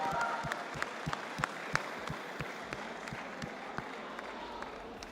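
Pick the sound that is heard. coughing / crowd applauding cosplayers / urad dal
crowd applauding cosplayers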